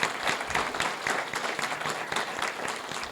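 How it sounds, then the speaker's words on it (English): Audience in a township council candidates' forum room applauds the by-election candidates, a steady spread of many hands clapping at moderate level for a few seconds. "Please, everyone in the room, join me in a round of applause"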